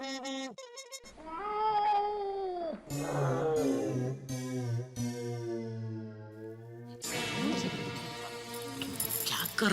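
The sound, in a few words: cat meowing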